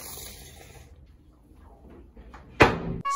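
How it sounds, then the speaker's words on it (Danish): A door shuts with a sharp, loud thud near the end, following a quiet stretch of faint background noise. "Spækken, luk døren"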